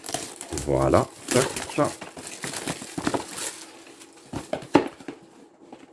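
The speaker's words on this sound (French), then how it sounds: "Je vais essayer de déballer ça le plus proprement possible." Plastic wrapping crinkles and tears as a never-opened, factory-sealed Alcatel OT332 mobile phone is unpacked, with close, rustling bursts that fade in and out while someone talks over them.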